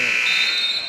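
A loud, steady electronic buzzer sounds at the end of a quarter in a 16U youth basketball game, a sustained high tone lasting about a second amid the gym.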